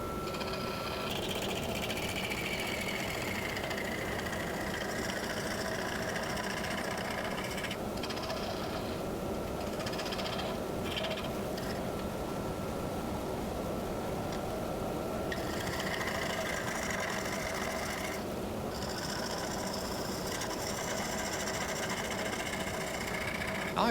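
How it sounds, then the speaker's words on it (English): A wood lathe turns a walnut crotch log into a rustic live-edge bowl with a carbide rougher tool, giving a steady, loud motor drone and scraping hiss that runs throughout with brief dips in the upper noise. "Now I've switched to the carbide rougher."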